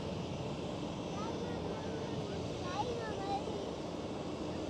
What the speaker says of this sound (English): Air Baltic A220.